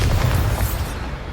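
A Bombarda spell explosion in the game Hogwarts Legacy: a single deep, loud boom that rolls out and fades over about a second, with no voices over it.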